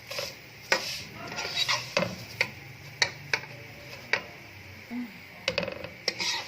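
A spoon scrapes and clinks steadily against a pan while vermicelli fries with cardamom, sharp metallic ticks recurring every second or so over a low background sizzle, close and fairly loud, no voices.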